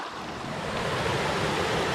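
Cold spring stream water flowing on a backcountry hiking trail in Bone Valley, a steady broadband rush that stays close and constant, with no voices.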